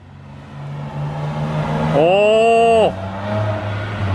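A BMW M3 approaches with its engine revving in a sharp rising-and-falling surge mid-clip, set against a steady low rumble, with a brief exclamation from a nearby voice.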